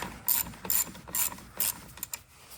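Ratchet wrench loosening the 10 mm terminal nut on a 2019 Hyundai Tucson SE battery, heard as about five short bursts of rapid clicking in a steady rhythm, close and fairly quiet, with no talk.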